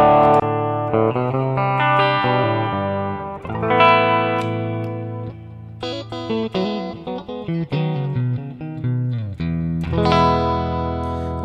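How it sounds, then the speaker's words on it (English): An electric guitar played through a Mooer GE200 multi-effects unit rings out with delay and reverb, then switches to a distorted overdrive tone, sustained chords and notes cutting in and out. "now you're going to see the delay reverb go off while the distortion comes on"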